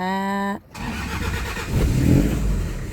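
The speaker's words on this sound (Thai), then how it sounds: "จะมาสตาร์ทเสียงเครื่องให้ฟังนะจ้าพี่น้องจ้า" A 1997 Toyota Hilux Mighty-X with a 2.5 engine starts: a whining starter-like tone cuts off, then the engine catches and settles into a rough, throbbing idle with a slight rev, close by.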